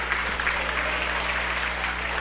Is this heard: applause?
yes